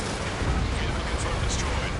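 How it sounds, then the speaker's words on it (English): A dense, loud roar and blast in an Ace Combat 7 air battle, where a missile launches and detonates, filling the whole moment with noisy rumble. "Missile launched."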